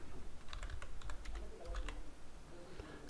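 Quick bursts of computer keyboard typing as a single word is entered, close crisp key taps in a short run over a low steady background hum.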